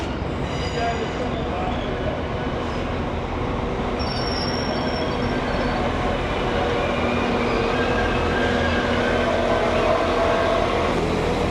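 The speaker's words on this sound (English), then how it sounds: "Right, I've made it on the train." A train heading to York, England rumbles steadily from the inside, with a constant low roar of wheels on track and a faint high squeal, with no clear talking.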